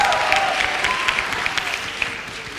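Audience applause at a lecture on the rule of law: scattered, moderate clapping from a seated crowd, steady across the few seconds and tapering slightly at the end, with no talk over it.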